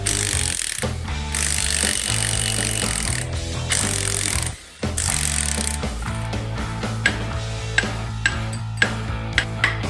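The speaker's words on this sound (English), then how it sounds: "I could finally zip off the flywheel bolts." Power tool rattling flywheel bolts off a locked-up 1955 Chevy Bel Air inline-six, a loud continuous mechanical hammering with a brief pause midway and sharp ratcheting clacks toward the end.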